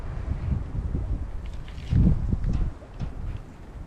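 Strong wind gusts through a snowstorm outdoors, a low buffeting rumble that swells and eases against the microphone, with a brief louder surge partway through.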